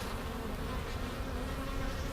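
A dense, steady buzz of guard bees at a winter beehive hums close by, low and continuous with no pauses.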